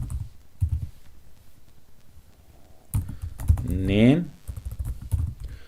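Typing on a computer keyboard while entering data in an MS Excel spreadsheet, with short bursts of key clicks before and after a voice speaking in Hindi-Urdu.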